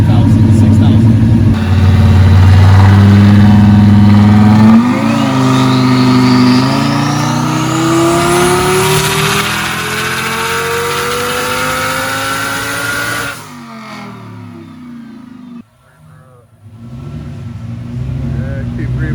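A boosted Lamborghini engine running about 13 pounds of boost on pump gas revs hard on a dyno, its loud roar climbing steadily in pitch for several seconds before cutting off abruptly, with talking over the noise.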